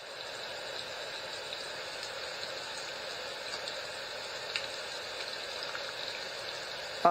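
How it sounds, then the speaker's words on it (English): Steady, even rain hiss from a Sharper Image sleep machine, with a soft pattering texture, continuous and unchanging, ending in a brief click. "Rain."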